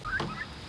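Pastured turkeys let out a brief gobble, a rising warble close to the listener, with a second quieter call trailing just after in a short burst.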